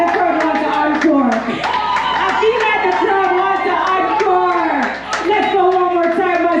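Crowd clapping for an encore at the relaunch of the Kingston Creative Artwalk festival, loud and continuous, blended with cheering voices and musical tones over the whole stretch.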